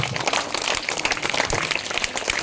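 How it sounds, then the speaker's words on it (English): A school audience claps for the winning team at a speech activities event, a steady crowd applause of many hands throughout. "Give them huge round of applause for leading lines."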